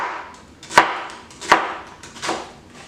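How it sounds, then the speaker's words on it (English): A knife dicing an onion on a cutting board, three distinct chopping taps about three quarters of a second apart, close and clear with no talking. "And keep that cut going all the way down, perpendicular the entire way."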